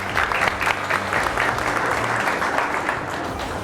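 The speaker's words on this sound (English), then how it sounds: "Let's give them a round of applause." A crowd at a county extension event gives a warm round of applause, a dense, continuous clatter of hands at close range that holds steady to the end without talk.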